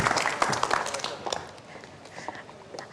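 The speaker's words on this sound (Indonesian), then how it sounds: "kita berikan Oma. tepuk tangan untuk Oma yang sudah hadir" Audience applause greets an elderly guest on an Indonesian TV program, a burst of fairly close clapping that fades over a couple of seconds, with faint talk underneath.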